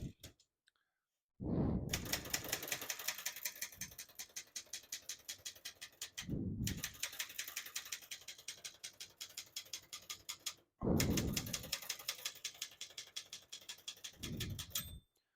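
Rapid mechanical clacking of a 1967 Brother Webster XL-500 portable typewriter in three long bursts, each key strike crisp and close, separated by brief pauses.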